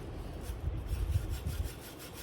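A brush scrubbing back and forth during cleaning, a steady close rubbing with low thumping strokes and a faint rhythmic swish, no voices.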